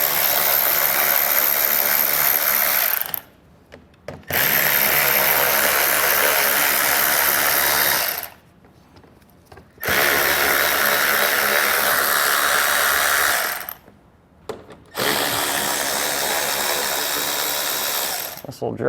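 Power tool, likely a drill or driver, runs loud and close in three long bursts, removing four 7mm head screws under the air dam of a 2023 vehicle, with short pauses between each run.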